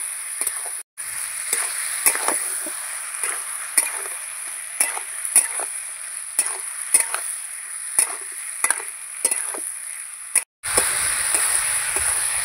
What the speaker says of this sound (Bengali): এবার আমি ভালো করে সবজিগুলো আর মশলা একসঙ্গে কষাবো।